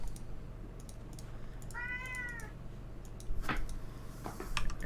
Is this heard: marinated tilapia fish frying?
no